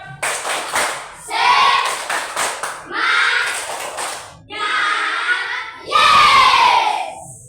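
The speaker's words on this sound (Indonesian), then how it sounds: "Baiklah, tepuk semangat." Students in a classroom perform a rhythmic group spirit clap in several bursts, with sharp clapping punctuated by loud shouted chants from the group, each burst lasting about a second before the next.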